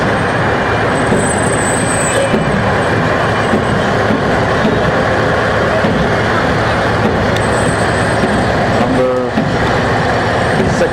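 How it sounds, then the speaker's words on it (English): Big fire ladder truck passing in a town bicentennial parade, a sustained loud heavy-vehicle roar with low rumble and road noise, faint high tones drifting in, and a brief clanking burst near the end. "And a big ladder truck."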